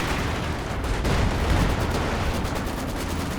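Artillery barrage in Company of Heroes 2, a dense rumbling run of booming impacts and gunfire with no speech over it.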